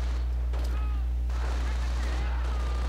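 A grenade explosion in a World War II style strategy video game, a low rumbling blast under continuous battle noise with faint distant gunfire.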